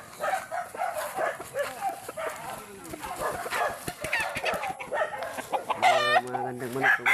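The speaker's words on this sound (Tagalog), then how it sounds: "Mga gandang manok ko guys." Chickens clucking and a rooster crowing on a mountain farm: steady clucking and scattered calls fill the scene, then a loud, drawn-out crow rises near the end, while someone speaks in brief bursts.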